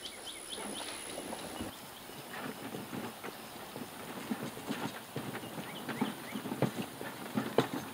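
Horses moving about a pasture near beehives, soft irregular hoof thuds and clip-clops close by, growing busier toward the end over a quiet outdoor background with a high steady tone early on.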